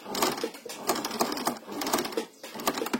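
A sewing machine stitches elastic into a fabric face mask in quick, even bursts of rapid needle clatter, close and fairly quiet, with brief pauses between runs.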